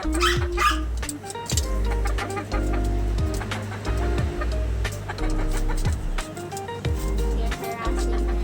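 SBR pullet chickens cluck and call continuously at close range, with repeated low thumps and rustling on a busy farm, loud throughout with no talking.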